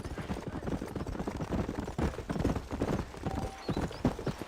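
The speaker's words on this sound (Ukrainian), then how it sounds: "сідаємо на коня і їдемо за нашим новим приятелем" In the video game Red Dead Redemption, horse hooves clip-clop in a quick, steady rhythm as the horse is ridden, close and continuous over several seconds, with faint background sounds.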